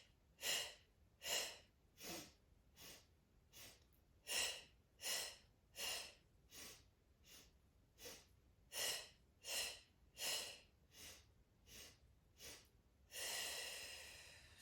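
Forceful rhythmic breaths pump in and out in short, even bursts during a Pilates hundred exercise, about sixteen sharp puffs close to the mic, ending in one longer, drawn-out exhale.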